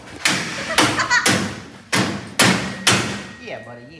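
A hammer knocks excess powder coat off a coated metal part: five heavy, close blows land in a fast, uneven rhythm, each with a short ringing decay, and a faint scrape trails at the end.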